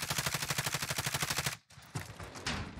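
Rapid automatic gunfire from a Krig 6 rifle in a Call of Duty-style shooter, a long steady burst of evenly spaced loud shots, then a brief pause before more scattered firing.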